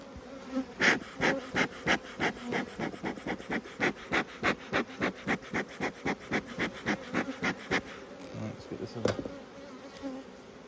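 Honeybees drone steadily on hive frames beneath a regular series of rhythmic scraping or rubbing strokes, close by, with no speech.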